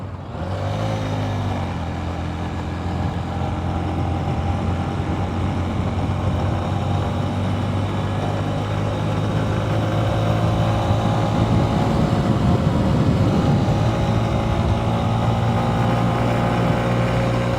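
A Honda CB125F motorcycle hums steadily along a small road, its small engine droning continuously and loudly at close range for the whole stretch, with no talking.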